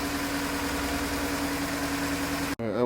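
A Mk4 Volkswagen Golf engine idles steadily while warming up after an oil and filter change, a close, even mechanical hum that cuts out briefly near the end.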